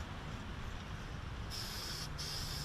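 Toner lacquer sprays from an aerosol can onto a Zenith 5-S-29 outdoors in swirling wind, a steady faint hiss under low wind rumble, with two sharp bursts of spray near the end split by a short pause.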